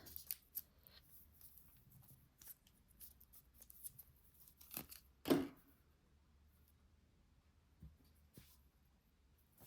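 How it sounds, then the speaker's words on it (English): Tape is torn off a roll to stick down paper beside oil pastel colouring, a single sharp rip amid faint handling clicks in an otherwise quiet room. "I'm just trying to tape up as we go here so I don't make a mess"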